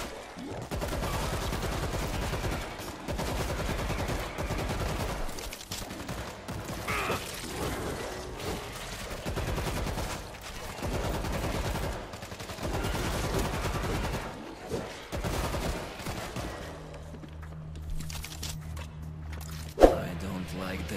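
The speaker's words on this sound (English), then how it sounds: "I'm the only one that's got like a loud gun." Bursts of loud gunfire from the video game World War Z on PS4 Pro recur in rhythmic runs throughout. A voice talks over much of the shooting.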